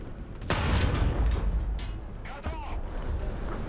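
Loud, very noisy 2S38 tank in War Thunder firing its cannon, a sharp boom with a deep rolling tail over constant engine and battle rumble, followed by a second, weaker blast.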